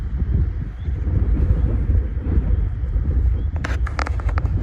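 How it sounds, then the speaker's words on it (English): Strong wind blows outdoors near a chicken coop, buffeting the microphone with a constant low roar, and brief crackling rustles come in near the end. "you guys hear it, it's windy."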